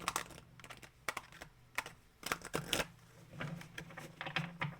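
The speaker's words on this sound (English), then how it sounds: "while I'm shuffling these cards" Tarot cards shuffled by hand during a reading: quick, irregular bursts of crisp flicking and riffling with brief pauses between them, close and fairly quiet, with no voice heard.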